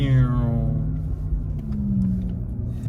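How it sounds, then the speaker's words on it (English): A 2020 Porsche Taycan electric car's brakes give off a drawn-out tonal whine that slowly falls in pitch over a low engine rumble, fairly close and steady. "Every time you hit the brakes, it has like a funny noise."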